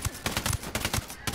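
Rapid bursts of gunfire in Tom Clancy's Ghost Recon Wildlands, a handful of sharp cracks in an uneven rhythm, fairly close and loud, with no talk over them.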